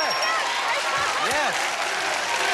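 A 1986 game-show studio audience bursts into applause and cheering, a dense wash of clapping throughout with a few whoops rising above it.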